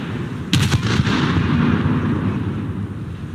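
A light cruiser's main guns fire a broadside in War Thunder: a sharp cluster of booming shots in quick succession, followed by a long rumbling roar that lingers in the air, loud and close.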